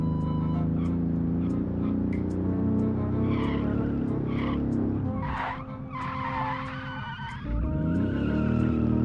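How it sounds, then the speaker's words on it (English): Small 75-horsepower car skidding hard through a corner on the handbrake, engine droning loudly with tire squeal rising over it, easing briefly mid-clip before the revs build again. "Gotta use the handbrake to get it a corner quick, it feels like."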